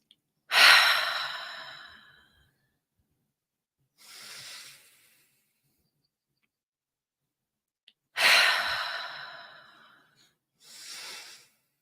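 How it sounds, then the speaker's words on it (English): Three or four slow, deep breaths taken in a quiet room for stress relief, each a loud airy inhale or exhale followed by a softer one, separated by silence. "Take 3 deep breaths."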